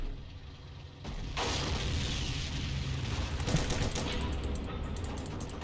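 Heavy gunfire and explosive booms while shooting at a tank's cannon in the Heroes & Generals video game, a sudden loud blast followed by continuous rumbling fire and sharp cracks.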